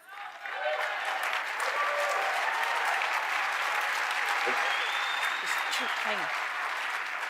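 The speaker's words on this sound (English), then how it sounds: "please, a round of applause for Steve Bannon" A large crowd at the Save Texas political event applauds Steve Bannon, a loud, steady wash of clapping that swells within the first half-second and holds at full strength, with scattered whistles and voices rising through it.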